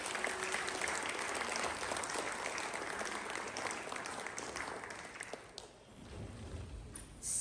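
A room full of people applauds candidates at a community meet-the-candidates event, dense sustained clapping heard up close that thins out briefly before picking up again.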